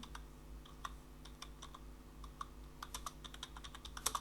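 Keys on a computer keyboard tapped in irregular bursts of quick clicks, fairly close and moderately quiet, with a steady low hum underneath and no voices.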